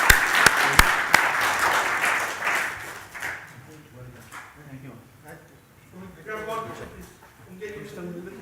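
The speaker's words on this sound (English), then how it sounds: "can we have a big round of applause?" Audience applause at an annual dinner and awards event, loud clapping with a few sharp claps at the start, fading after about three seconds as a voice and room chatter take over.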